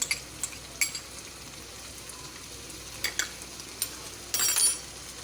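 Chicken sizzles in a karahi with garlic and ginger, a steady frying hiss broken by sharp scraping and stirring clinks from a utensil against the pan.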